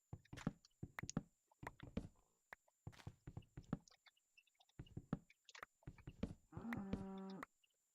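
A cow in Minecraft gives one clear low drawn-out moo near the end, following a series of scattered footstep-like knocks and taps, close and fairly quiet.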